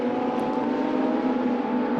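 A Lamborghini GT2 race car at the Paul Ricard circuit, heard as a steady high engine drone held at constant pitch for the whole moment, loud and sustained.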